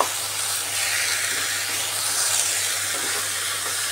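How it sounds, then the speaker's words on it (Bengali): Spices and green chilli sizzling and frying with ridge gourd in a pan for a Bengali egg curry, a steady loud hiss throughout with no pauses. "এবার এটাকে ভালো করে কষিয়ে নিতে হবে মশলার সাথে।"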